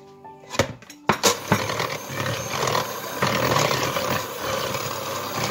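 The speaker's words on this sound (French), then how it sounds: "Je vais essayer avec le batteur dans un premier temps." Electric hand mixer beating biscuit dough as flour is added little by little, starting with a few clattering knocks and then a steady whirring, grinding drone that stays loud and close until the end.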